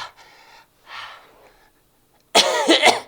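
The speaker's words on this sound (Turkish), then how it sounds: "Öksürüyorum." A person gives a few breathy, rough coughs close by, with pauses between, ending in a louder burst of harsh coughing.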